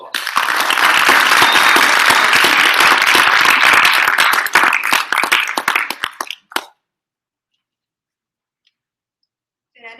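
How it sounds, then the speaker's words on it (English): A crowd gives loud, dense applause for a final school presentation on genetic engineering, sustained for about five seconds before thinning into scattered claps and stopping, followed by silence. "Please give a big round of applause."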